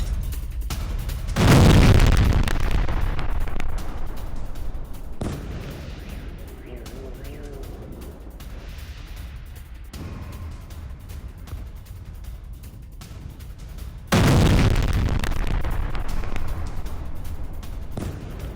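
Iskander missile strike explosions hitting Kyiv: two heavy booming blasts, one near the start and another past the middle, each followed by a long rumbling roar that hangs over the city.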